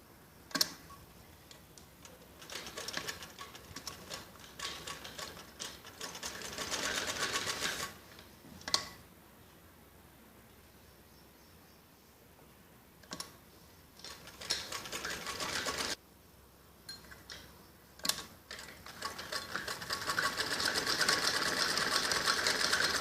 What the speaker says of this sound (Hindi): ऐसे दोनों पीस को बराबर पकड़ के इसके कंधों पे ऐसे दोनों तरफ सिलाई लगानी होती है